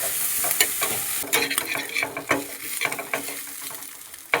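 Carrots and other vegetables sizzle in a hot pan while being stirred for a Maggi noodle dish, with a steady frying hiss broken by irregular scraping and clattering strokes of the spoon against the pan, up close.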